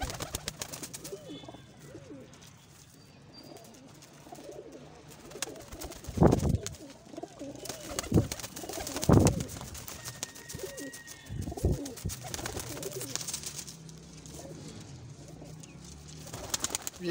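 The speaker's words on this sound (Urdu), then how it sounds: "سب بریڈر کبوتر ہیں" Breeder pigeons in a loft cooing in soft, repeated throaty calls, close by, over a low background hum with a few sharper knocks.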